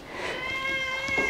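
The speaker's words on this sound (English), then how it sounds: "Do you want some foodies, Elfin Cat" A pet cat lets out one drawn-out, tonal meow close by, sustained across the whole moment with no talking.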